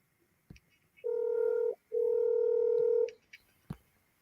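Two steady dialing tones sound, a short one and then a longer one, while a call goes out on a telephone. Faint clicks come before and after the tones. No one talks over them.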